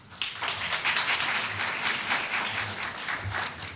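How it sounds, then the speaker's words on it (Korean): Crowd applause at a party's candidate campaign rally in Jeju, a warm, sustained patter of many hands clapping together, fairly distant and even throughout. "여러분 뜨거운 격려의 박수로 맞아주시기 바랍니다"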